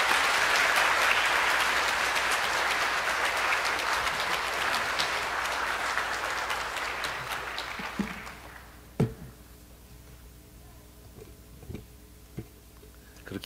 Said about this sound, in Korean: 우리 박수로 환영해 주시죠.